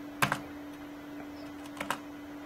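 Two short bursts of computer keyboard keystrokes while a figure is entered into Tally ERP 9 accounting software, each a quick double tap, soft and close, with a steady electrical hum underneath and no talking.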